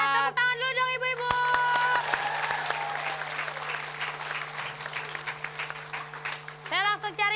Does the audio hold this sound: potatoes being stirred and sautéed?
no